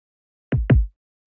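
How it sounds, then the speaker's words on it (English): A boom bap kick drum sample from a Hushchild sound pack hits twice in quick succession, two short, punchy, deep thumps played dry and alone. "The kick sounds like this."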